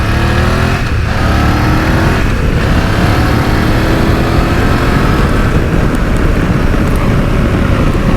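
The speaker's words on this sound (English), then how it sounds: "This is a real perky little motor" A 2024 BMW F900 GS motorcycle being ridden, its engine droning loud and steady up close while revving and shifting through gears, with wind roar throughout and no talking.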